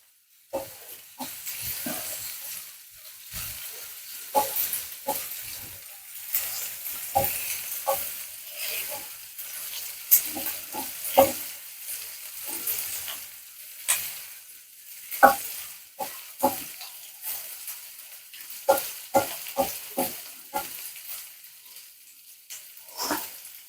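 Small onions (shallots) sauté in a hot pan for a Kerala-style onion thoran, a soft steady sizzle broken by frequent scraping stirs of a spoon against the metal, close and moderately quiet.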